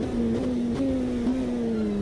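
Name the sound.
Cosworth race car engine from the video game Automobilista 2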